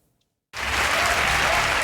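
Applause erupts at the close of a Democratic presidential debate in Iowa, a large audience starting abruptly after a short silence and holding a loud, dense roar of clapping.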